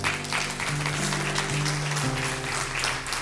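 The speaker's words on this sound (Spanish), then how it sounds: "Dale un fuerte aplauso al Señor." A church congregation claps steadily and continuously during a worship service, a dense patter of applause with a low musical hum underneath.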